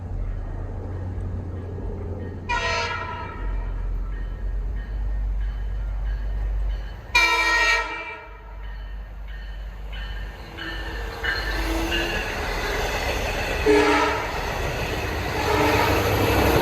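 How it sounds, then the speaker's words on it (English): A westbound Long Island Rail Road local train approaches from a distance over steady low rumble, with two loud bursts of its horn and rising rail and wheel noise as it nears. "Westbound train 2771 approaching from Patchogue to Babylon."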